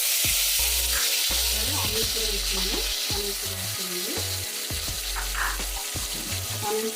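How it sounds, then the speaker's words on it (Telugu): Curry leaves frying in hot oil for mint and coriander rice, a loud, dense crackling sizzle that holds steady throughout, with light clinks of a utensil, close by and without talk. "కరివేపాకు వేసుకుందామండి"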